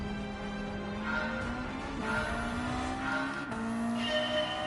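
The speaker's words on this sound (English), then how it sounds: "And you can hear the turbo in this car." A racing car in Gran Turismo 7 roars at high revs with a turbo whine and tire squeal, its engine pitch climbing and dropping through gear changes, loud and continuous with no voices.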